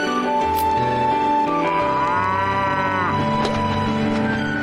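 A cow moos in the video game Faraway Story, one loud, long, drawn-out low call heard alone over a steady game music background.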